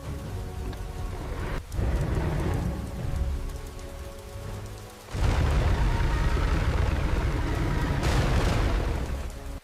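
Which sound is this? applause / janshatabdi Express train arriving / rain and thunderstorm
rain and thunderstorm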